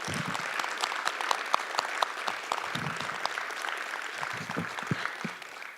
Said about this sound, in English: let's give a round of applause to all our speakers